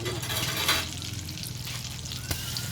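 Garlic and onion sauté in butter in a pan with a loud, steady sizzle and crackle, close up, plus occasional stirring scrapes and a light knock.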